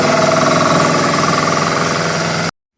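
A secondhand engine with a large compressor runs loudly and steadily, a rough, rapid mechanical chatter that holds at a constant level for over two seconds and then cuts off abruptly into silence.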